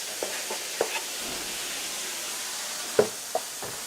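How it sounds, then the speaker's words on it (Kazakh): Diced tomatoes added to fried minced meat in a pan, a soft continuous sizzle with a few sharp clicks and scrapes scattered through it, with no voices. "Фаршымыз қуырылғаннан кейін жаңағы текшелеп тұрған қызанағымызды саламыз"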